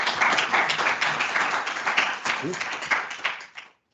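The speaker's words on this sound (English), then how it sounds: "Give them a round of applause" Members at an SFE annual general meeting clap for the new board, a thin scattered round of applause that fades out, with a voice briefly heard over it.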